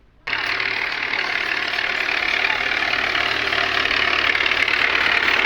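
An old Fiat tractor engine starts up abruptly and settles into a steady, close, throaty idle with a constant knocking hum and no voices.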